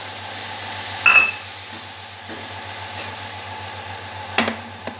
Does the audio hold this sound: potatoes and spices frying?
yes